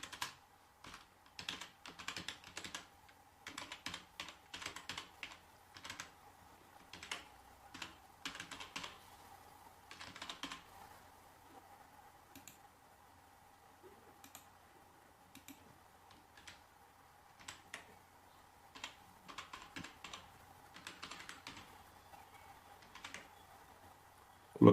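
Login details are typed on a computer keyboard in bursts of close, crisp key clicks, with short pauses and a longer quiet stretch midway, in an otherwise quiet room without speech.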